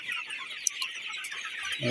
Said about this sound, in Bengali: এই দেখেন মুরগি